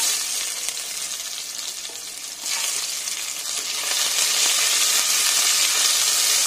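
Sliced onions and whole spices such as cloves and cardamom fry for egg biryani, a steady close hiss that swells louder partway through as they are stirred.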